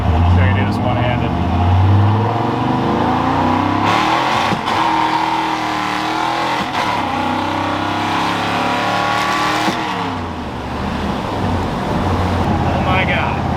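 Fox-body Mustang pulling hard, its engine roaring loud and close as it climbs through several gear changes, with a voice talking over the run.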